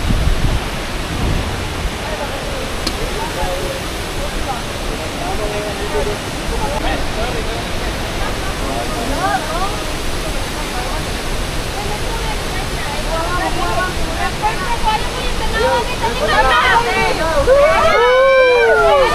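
Steady broadband rush of Mindamora Falls pours continuously and loudly, with a bird or whistle-like chirps rising near the end.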